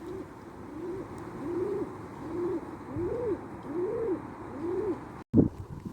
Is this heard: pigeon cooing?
yes